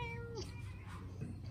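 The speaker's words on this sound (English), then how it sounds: "Oh no, there she is. Hungry Kitty" A hungry cat meows once near a yard where painting is going on, a soft, fairly faint drawn-out cry over steady low background noise.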